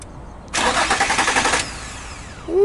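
An Infiniti G35's starter cranks hard for about a second with a rapid pulsing whir, then drops away to near quiet without a clear catch into idle, close and loud.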